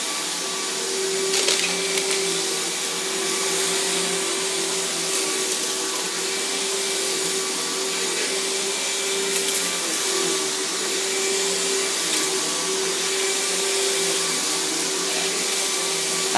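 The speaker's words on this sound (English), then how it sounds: "I haven't vacuumed the basement in a week, so I have to do it a couple of times to make sure I haven't missed anything." A Riccar vacuum cleaner runs steadily across a basement floor, a constant close whine with a low hum and occasional clicks and rattles as debris is picked up, alone without any talking.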